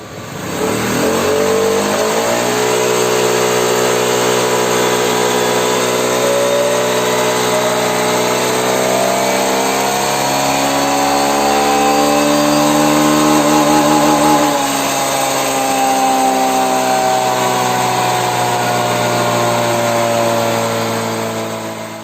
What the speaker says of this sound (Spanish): Muy bonito el sonido del motor.